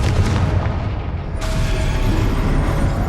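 A Confringo fire blast spell from the Hogwarts Legacy video game, a continuous loud roaring burst with a rumbling low end and a crackling, hissing surge that shifts partway through.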